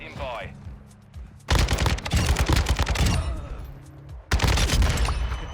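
Kastov 762 assault rifle fire in Modern Warfare 2, loud rapid automatic bursts in two long stretches separated by a short pause, with a faint voice at the start and game noise underneath.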